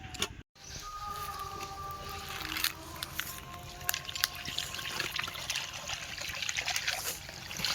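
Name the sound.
washing cut fish in pond water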